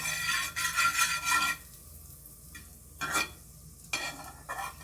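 Butter sizzling in a frying pan for Swedish pancakes, heard as bursts of scraping and stirring with quieter gaps of soft frying between them, close and moderately loud, no talk.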